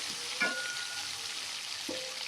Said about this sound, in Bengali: এখন আমি ভালো করে মশলাটা কষিয়ে নিচ্ছি